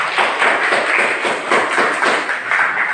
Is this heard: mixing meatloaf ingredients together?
no